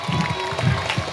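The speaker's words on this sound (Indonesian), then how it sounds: "tepuk tangan." Students clapping at a school flag-raising ceremony for new pupils at a junior high school in Wonogiri, a brief burst of crowd applause close by.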